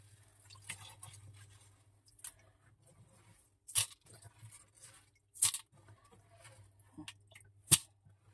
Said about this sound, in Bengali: এই যে নিচে থেকে লাস্ট যে পাথরগুলো আছে জড়ো করে নিয়ে এভাবে তুলে নেবো